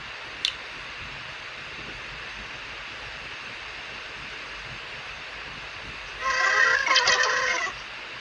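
Dash, a small educational coding robot, gives a brief electronic chirp near the start, then after a long near-silent stretch plays a louder burst of warbling toy sound effects lasting about a second and a half.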